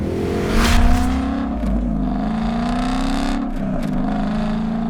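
A 2016 Ford Mustang accelerating hard, its engine note climbing steadily with two brief dips between gear shifts, loud and close with no voices.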